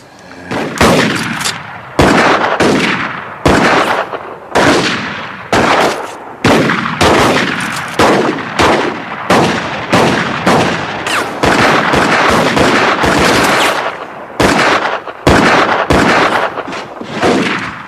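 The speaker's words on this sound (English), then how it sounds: "What kind of gun is that? One of them new autoloaders." Rapid, loud bursts of gunfire from new autoloader rifles crack out in an attack, dozens of close shots in quick irregular volleys with only brief pauses between them.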